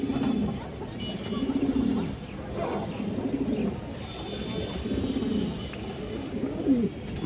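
High flyer pigeons coo steadily on a farm, a repeating low throaty rolling call that returns every second or so. The cooing sits close and moderately loud over faint background ambience.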